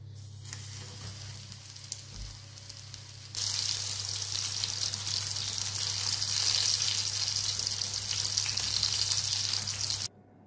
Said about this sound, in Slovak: do panvice sme si dali olej, ktorý sme nechali rozpáliť a teraz káre z každej strany opečeme